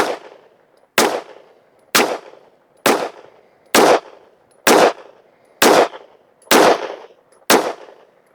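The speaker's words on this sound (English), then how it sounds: "let's shoot a group at the top right target. 10 shots." Ten evenly spaced pistol shots with PMC Bronze ammunition crack sharply one after another, each loud, close and alone, followed by a short decaying echo at an outdoor range.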